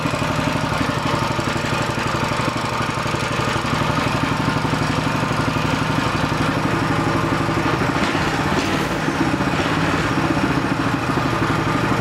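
A small magneto-fired mini bike engine runs steadily at idle, a loud, close, buzzing putter with an even rhythm and a brief change in tone near the end.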